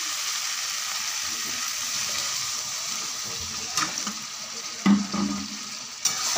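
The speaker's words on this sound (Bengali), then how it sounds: "এবার আমি জল দিয়ে দেবো।" Fried spice masala hisses softly and steadily in a pan, then near the end a few louder splashes and bubbling bursts come as water goes in; no voices.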